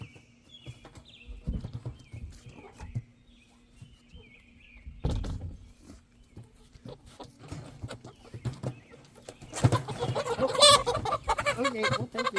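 Rooster and hens in a backyard flock cluck and stir in scattered bursts, with a louder flurry of squawking and wing noise near the end, close by.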